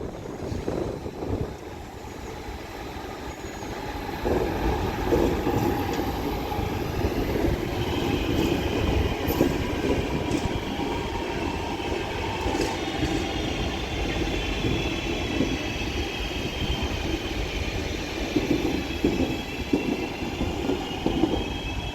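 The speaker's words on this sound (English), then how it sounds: "With a class 323 leaving. Listen to the motors because they're so good." A Class 323 electric train pulls out of Liverpool Lime Street, its traction motors whining in a steady rising tone over a constant rumble of wheels and rail. The sound is loud and continuous throughout, with no talk.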